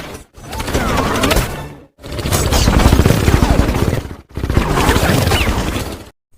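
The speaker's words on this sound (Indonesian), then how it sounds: "Aksi tembak-tembakan pun dilakukan." Three bursts of rapid gunfire and crashing impacts in an action film shootout, each a couple of seconds long, separated by short silences; no speech.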